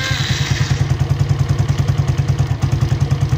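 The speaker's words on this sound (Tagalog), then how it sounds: "Kaya namamatay itong motor na to dahil doon sa kuryente na tumatalsik na yun." A Suzuki Raider 115 FI motorcycle engine with an electrical spark-leak fault runs close by in a rapid, uneven thumping idle, its loping pulses suggesting a misfiring engine about to die.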